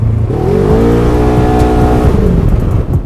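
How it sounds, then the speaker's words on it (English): A brand new 2018 Polaris RZR XP1000 off-road vehicle driving on trails on Maxxis Bighorn tires: a loud, close engine note that rises steadily as it accelerates, holding a strong rev for about three seconds. "So it's pretty cool driving this brand new 2018 XP100."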